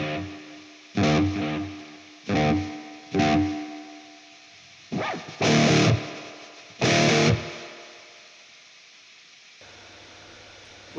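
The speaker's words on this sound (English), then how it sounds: "Spring reverb." Distorted electric guitar chords from an amp simulator strike in short bursts, each followed by a splashy, metallic spring reverb tail that rings out before fading.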